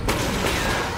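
Gunfire in Fortnite Season 4: a dense, loud, noisy burst of shooting that fills the whole brief moment without letup.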